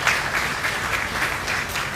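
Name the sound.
audience applause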